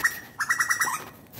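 A bird calls in a quick run of five or six bright, chirping notes, fairly close, with a single note just before and quiet surroundings.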